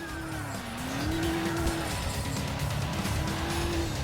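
Over-torqued game car from GTA 4 revving steadily with tires squealing as it drives, a loud sustained engine drone with rising and falling pitch and no voices.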